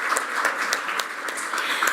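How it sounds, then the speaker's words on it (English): Brief audience applause for panelists at a cities summit, steady crowd clapping at moderate distance. "A big round of applause, please."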